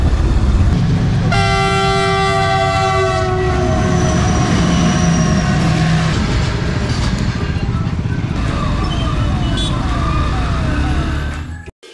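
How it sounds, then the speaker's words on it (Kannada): A train passes close and loud, a long horn blast ringing out over the heavy rumble and clatter of the wagons rolling by before the sound cuts off abruptly. "ರೈಲು ಗಾಡಿ"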